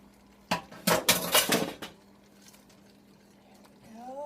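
Chopped onion lands in a pan for a beef stir-fry, giving a burst of several clattering, crackling hits over about a second and a half, close and fairly loud, followed by quieter background and a faint voice at the end.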